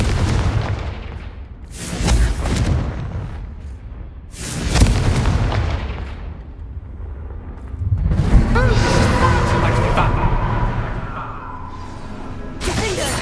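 Repeated Confringo fire spells in Hogwarts Legacy, several heavy booming blasts spaced a few seconds apart with rumbling tails and a whooshing crackle, under combat noise.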